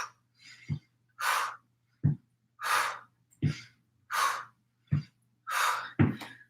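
Heavy rhythmic breathing during a cardio weight workout: forceful exhales alternate with short sharp inhales about every second, close and loud, with no speech.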